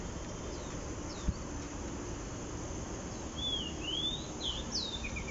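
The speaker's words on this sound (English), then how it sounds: "See, you heard all the birds." Birds call in a nature park, several thin, high chirps and whistling slides scattered over a steady hum of insects, fairly distant and with one faint knock partway through.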